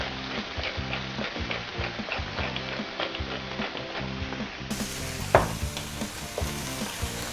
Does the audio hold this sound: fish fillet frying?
yes